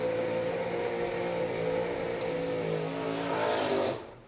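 A sponsored hot rod at a drag racing event revs steadily and loud, a continuous engine roar that holds for about four seconds before cutting off sharply at the end.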